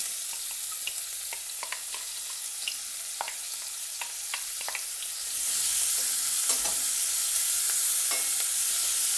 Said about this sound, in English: we'll go ahead and add in the onions and carrots both at the same time